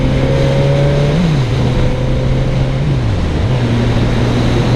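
Suzuki GSX-S 1000F sportbike engine running steadily and loud, its pitch dipping and rising twice as the auto-blipper kicks the throttle during shifts, with no talking.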